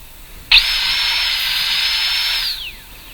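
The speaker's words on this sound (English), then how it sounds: "The dentist drills the donut hole." A shrill drill sound effect for a donut dentist drilling a donut hole starts abruptly, holds a loud steady high whine for about two seconds, then winds down with a falling pitch, with no voice over it.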